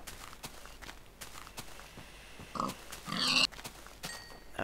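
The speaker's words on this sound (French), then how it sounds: "Ah des cochons, des cochons." In the video game Minecraft, pigs oink and grunt in short bursts while blocky footsteps tap steadily underneath, all fairly quiet, with no talk.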